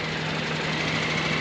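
A KTM 890 Adventure R motorcycle engine runs steadily at a fast, even idle, a loud close buzzing drone with a slight knocking texture that holds for a short moment.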